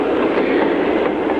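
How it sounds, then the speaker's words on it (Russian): A passenger train speeds along the tracks, a steady loud broadband roar of wheels and rushing air with no pauses, heard up close throughout. "Ведь с этой сумасшедшей скоростью мчится поезд"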